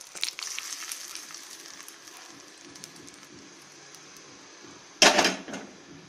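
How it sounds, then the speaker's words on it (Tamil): Quiet kitchen background, then a sudden loud sizzle as hot tempering is poured into fish curry, crackling briefly before fading. "இனி இந்த தாளிப்பு கொண்டு வந்து இந்த குழம்புல வந்து கொட்டணும்"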